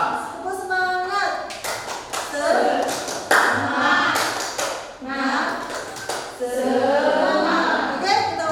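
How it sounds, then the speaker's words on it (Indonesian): A classroom of Indonesian students does a rhythmic spirited clapping chant, bursts of patterned hand claps alternating with a teacher and children calling out together, loud and close. "Sebelumnya kita tepuk semangat."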